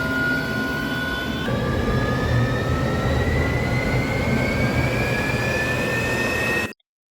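A jet engine with its blades spinning sends out a loud, steady roar with high whining tones that slowly rise in pitch, then the roar cuts off abruptly.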